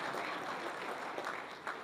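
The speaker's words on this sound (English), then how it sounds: "Look at that, it's a round of applause" An audience at a city state-of-the-city address gives a round of applause, a dense, even patter of many hands clapping at moderate distance.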